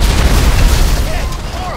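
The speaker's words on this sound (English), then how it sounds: "Oh, behold, he launched grenades." Grenade blasts in Grand Theft Auto V, a loud, continuous rumble of booming explosions and gunfire filling the whole moment with no pause.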